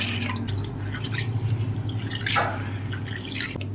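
Water drips and trickles as washed whole lentils drain through a mesh strainer, a close, steady patter with a brief splashy run near the middle, no voices.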